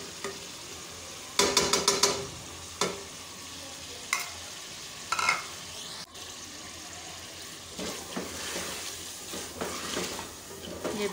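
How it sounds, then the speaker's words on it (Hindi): Chicken pieces and onions sizzle in a hot pan while being stirred, with intermittent scraping and clattering bursts over a soft steady frying hiss, fairly close and quiet. "ये देखें जी हमारा चिकन फ्राई हो रहा है, साथ प्याज भी हो रहे हैं"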